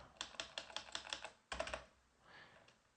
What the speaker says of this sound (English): now I'm gonna go ahead and type in vim / etc open VPN